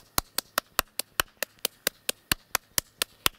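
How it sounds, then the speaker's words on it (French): One person claps hands in a steady, even rhythm, about fifteen sharp, close claps spaced evenly apart with no talking in between. "Et j'applaudis."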